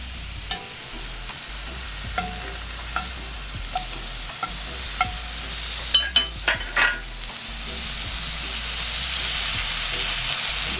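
Fish fillets frying in butter on a cooktop, a continuous soft sizzle with occasional sharp taps of a spatula pressing down, the hiss gradually swelling louder toward the end.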